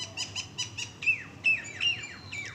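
Birds call from morning trees, mynas and crows among them, with a quick run of sharp chirps followed by several loud, drawn-out descending whistles, close and clear against a soft ambient hum.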